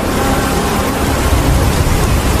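Heavy rain pours in a cartoon scene, a loud dense continuous roar of falling water with no break.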